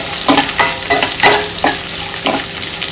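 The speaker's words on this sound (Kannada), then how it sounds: "ನೀನೊಂಜಿ ಚೂರು ಬ್ರೌನ್ ಆಪುನೇಟ ಫ್ರೈ ಮನ್ಪೋಡು" Onion fries loudly in a pan for a squid sukka dish, a close, continuous sizzle broken by regular scraping stirs.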